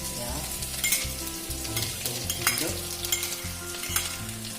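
Ginger and white garlic fry in oil in a pan on a lowered gas flame, with a steady close sizzle and occasional stirring scrapes and no talking.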